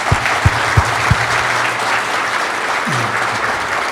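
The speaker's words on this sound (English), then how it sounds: "We give him a round of applause." An audience at an online safety event applauding a speaker, dense and steady clapping from a sizable crowd held at an even level throughout, with a faint low tone running under it.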